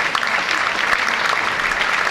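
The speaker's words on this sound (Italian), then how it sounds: "richiamiamo un attimo anche per l'ultimo applauso" Audience applause at a violin concert homecoming in Taglio di Po, Italy, dense and sustained clapping from a full crowd filling the room without a break.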